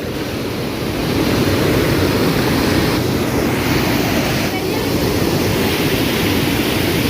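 A steady, loud roar of falling water at Perunthenaruvi waterfall in Kerala, with constant splashing and spray noise, continuous throughout with no breaks.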